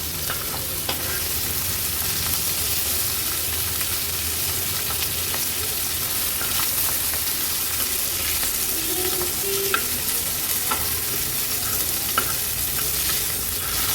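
Wakti fish pan-fries in oil on a tawa with a steady, dense sizzle throughout and a few faint taps as the pieces are turned. The sound is close, with no speech.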